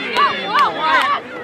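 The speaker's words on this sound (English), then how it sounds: "There's way too much yelling and screaming coming from your side." A sports crowd at a Westchester game yells and screams in loud, overlapping bursts of cheering voices rising and falling over a brief moment.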